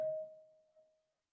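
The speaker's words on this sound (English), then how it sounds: "sorry, that was the bell" A doorbell gives a single clear ding that rings out and slowly fades over about a second, close and fairly quiet, with no talking.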